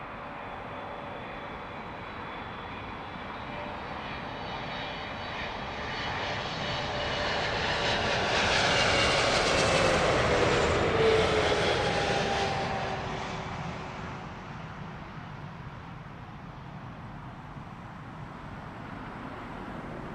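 An American airliner arriving at London Heathrow passes overhead, its engine roar swelling from a distant rumble to a loud peak and then fading away, with no talk over it.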